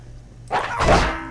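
A dog in Postal 2 gives a couple of quick, close barks, loud and abrupt against a quiet background.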